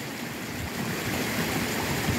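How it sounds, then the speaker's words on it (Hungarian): A clear mountain stream above a waterfall flows steadily, a dense, even rush of water with no voices over it. "itt látható, hogy milyen kristálytiszta ez a hegyi patak"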